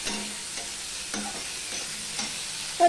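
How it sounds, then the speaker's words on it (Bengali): Potatoes and green chillies fry and sizzle steadily in a pan, with a few soft stirring scrapes recurring about every half second; close and fairly loud, no voices. "এই আলুটার সাথে আমি ভেজে নেব ভালো করে। আর দুটো কাঁচা লঙ্কা আমি দিয়ে দিলাম।"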